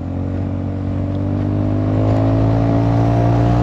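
A Honda Forza 350 scooter accelerates as the throttle is twisted, its engine drone holding steady and then rising in pitch and loudness midway, with no voices over it.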